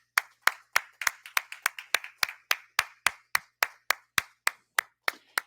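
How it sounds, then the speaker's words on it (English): Clapping at a university anniversary gala comes as a steady run of sharp, evenly spaced hand claps, close and distinct rather than a dense crowd roar. "let's give one last big round of applause to all of our President's Excellence"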